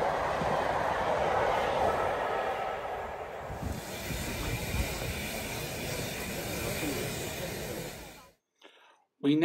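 A Great Western Castle class steam locomotive hauls a special rail tour at speed through Banbury, giving a loud, continuous roaring rush with rattling carriages that fades and cuts off near the end.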